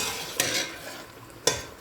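Ginger-garlic spice paste, loosened with a little water, is stirred and sautéed in a pan, with a soft sizzle throughout and two sharp scraping strokes of the spoon against the pan.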